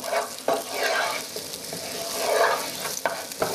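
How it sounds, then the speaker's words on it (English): Chopped onion sizzles and crackles in a hot pot while a spoon scrapes and stirs it, with a steady broadband fry broken by a few sharper scraping knocks, close and moderately loud with no talking. "Give it a good stir."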